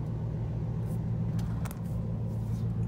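A truck drives slowly, heard from inside the cab as a steady low engine rumble with faint rattles over a few seconds, pulling around to a spot with stacked wood.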